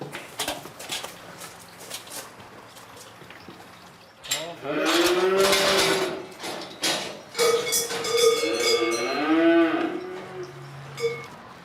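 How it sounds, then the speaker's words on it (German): Simmental suckler cows with their calves being let out to pasture by a lake on a Swiss farm, lowing loudly and repeatedly in long overlapping moos from near by, with quieter ambient farm noise before the herd starts calling. "25 Simmentaler Mutterkühe mit Nachwuchs gehen auf die Weide am Moossee."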